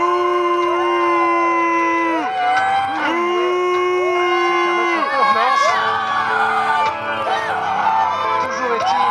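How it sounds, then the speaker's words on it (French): A large crowd cheers and shouts loudly at a CWF wrestling show as a wrestler enters the ring, voices whooping and calling out continuously in a lively arena. "Vous pouvez l'applaudir très fort."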